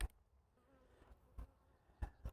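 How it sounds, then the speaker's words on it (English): Honey bees in a hive buzz faintly and steadily, broken by several sharp close knocks and bumps from handling the box; no speech. "Plenty of bees."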